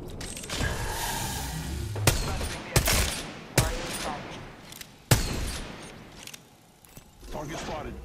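Gunfire crackles through an Apex Legends firefight, with sharp bursts and several heavy thumping shots over constant battle noise, mixed under game voice callouts.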